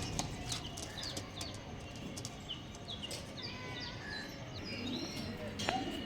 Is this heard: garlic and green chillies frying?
no